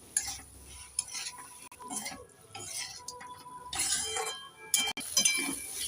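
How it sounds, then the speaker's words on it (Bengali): Vegetables and fried bitter gourd stir-fried with spices for Bengali shukto, heard as close, uneven stirring scrapes and clinks of a spatula against the pan over a soft sizzle, with no talking. "এবার নেড়ে চেড়ে মশলার সাথে সবজিগুলোকে আমি দু মিনিট ভালো করে কষে নেবো"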